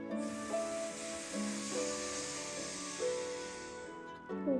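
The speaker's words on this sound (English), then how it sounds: "making a hissing sound like this." A long, steady hiss of breath drawn in through the teeth, fairly soft, with gentle melodic music playing underneath.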